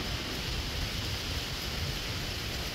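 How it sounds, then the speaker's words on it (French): Steady broadband whooshing roar of wind blowing, constant and fairly loud throughout, with no voices. "Le vent se lève."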